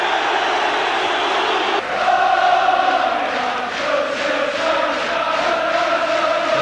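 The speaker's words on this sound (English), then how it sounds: "A partisan reception for Keegan from one end of the ground, and a generous round of applause from the other." A football ground crowd roars with cheering and applause for Keegan at Newcastle United, a dense, continuous wash of voices filling the stadium, with the noise swelling slightly partway through and holding loud to the end.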